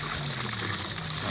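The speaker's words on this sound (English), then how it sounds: "I'm just gonna run this fresh water in over these crawfish to clean them off and to purge them until the water runs clean." Fresh tap water runs steadily over live crawfish being rinsed and purged, a continuous close hiss and trickle of flowing water with no voices.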